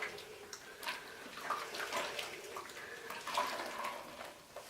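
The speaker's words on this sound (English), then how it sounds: "And just squeeze the water and soap out, like so." Water and soap being squeezed out of a wet felt scarf during wet felting, soft, faint watery squelches and trickles close by, fairly quiet throughout.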